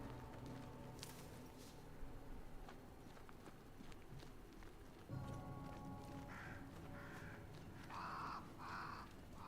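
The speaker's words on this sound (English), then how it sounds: "Alright, bird." Crow cawing in the video game Banishers: Ghosts of New Eden, several caws spread over ambient game sound with a clop-like footstep pattern underneath, moderately distinct and no talk.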